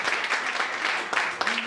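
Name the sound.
applause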